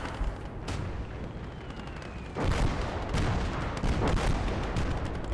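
Artillery fire in the war game Call To Arms: Gates of Hell: heavy, continuous battlefield rumble with booming blasts and crackling gunfire layered over it, loud and dense for the whole stretch, with no talking.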